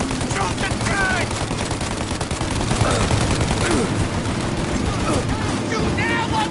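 Dense, continuous gunfire from a shootout in Mafia: Definitive Edition, loud and close, with rattling bursts layered over shouted voices and a constant low rumble throughout.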